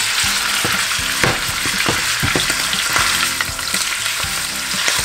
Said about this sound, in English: We're gonna throw in the frying pan. There's olive oil going.